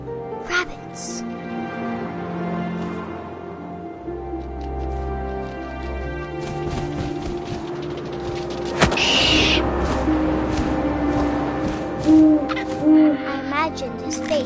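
An owl hoots in the video game What Remains of Edith Finch, a few low hoots heard amid wind and ambient game sounds, with a narrator's voice speaking over much of it.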